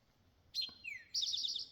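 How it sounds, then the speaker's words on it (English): Tree swallows chirp while catching insects in the evening: a few quick, high chirps and a sliding twitter, close and clear over a quiet background. "And I got the tree swallows."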